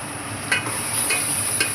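Rice and tomatoes being stirred together in a pot for homemade biryani, a steady soft scraping and sizzling texture with a few brighter spoon strokes, close and continuous, no voices.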